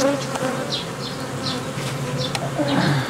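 Honey bees buzz steadily at close range at an opened hive, a dense droning hum with individual insects flitting past and bumping the microphone, louder toward the end.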